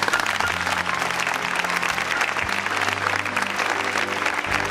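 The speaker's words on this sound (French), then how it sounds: "on va les applaudir." An audience applauds the young players after the final of the Guillaume Vincent tournament at Saint-Bonnet-en-Champsaur, steady dense clapping throughout, with a low hum running underneath.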